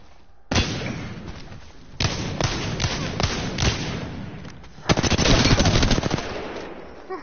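Rapid automatic gunfire in a competitive shooter video game, loud and close, with several sustained bursts separated by brief pauses and a dense final volley.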